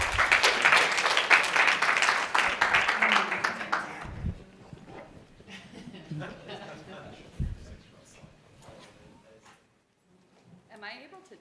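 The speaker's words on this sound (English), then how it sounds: "Please give Rebecca a round of applause" Conference attendees clap for a speaker, a loud burst of applause that fades quickly after about four seconds, followed by scattered quieter sounds and a few voices talking.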